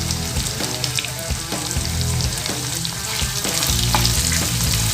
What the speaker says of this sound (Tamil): இதையும் இதோட சேர்த்து நம்ம நல்லா வதக்கிக்கலாம்.